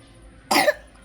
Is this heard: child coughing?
yes